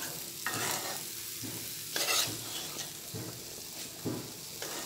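Gooseberries coated in masala being stirred into hot oil for amla pickle, repeated rhythmic scraping strokes of a spoon against the pan over a low sizzle, close and without talk.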